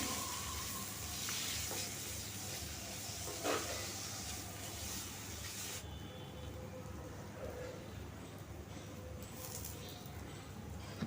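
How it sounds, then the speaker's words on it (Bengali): Paneer pieces fry lightly in a pan over a gas flame, giving a steady, close hiss of sizzling oil with a brief clatter partway through. "পনিরগুলো দিয়ে আমি একটু হালকা করে ভেজে নেব সোনালি বর্ণ ধরলেই বন্ধ করে দেব গ্যাসকে"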